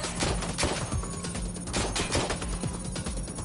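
Rapid gunfire in Watch Dogs Legion, a loud, close burst of repeated shots in quick succession with overlapping impacts and no speech.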